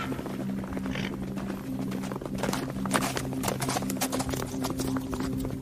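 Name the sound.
horse hooves clip-clopping, podcast sound effect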